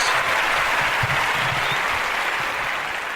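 A crowd applauds loudly and continuously at close range, a dense, unbroken clapping that eases slightly toward the end.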